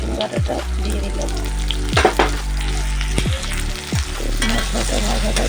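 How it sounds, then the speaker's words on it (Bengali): Ginger-garlic paste fries in hot oil with chillies and tomato, a loud continuous sizzle up close, punctuated by a few sharp spatula scrapes and knocks against the pan as it is stirred. "এখন এর মধ্যে আদা রসুন বাটাটা দিয়ে দিলাম।"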